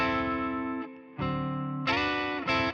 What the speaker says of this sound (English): That's the sound of a 9th chord going to a 13th chord and then back to a 9th chord.